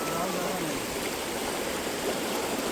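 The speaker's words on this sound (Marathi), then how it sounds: "पानी कम है लेकिन बहाव ज़्यादा है" Shallow but fast-flowing water of the Narmada river rushing past, a steady close wash of turbulent flow with a faint murmur of voices under it.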